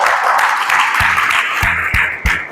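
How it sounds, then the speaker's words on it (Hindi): A church congregation at a prayer session in Chianki, Daltonganj, claps in thanks. The quick, slightly uneven claps are spread across the room and mixed with some background voices. "प्रभु को धन्यवाद देते हैं ताली बजाकर।"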